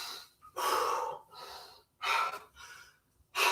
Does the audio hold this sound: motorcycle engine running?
no